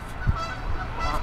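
Geese honking at Eastgate Park in Raleigh, outdoors: a brief honk or two against steady open-air background noise.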